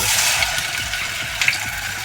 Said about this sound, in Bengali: ডিম ডিম আর বেগুন ভাজা হবে এখন দিয়ে দে সব।